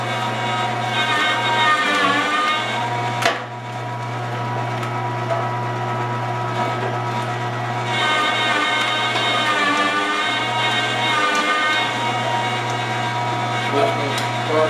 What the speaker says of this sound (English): all the liver and the pork fat is frozen up nice, and now it's going into the grinder.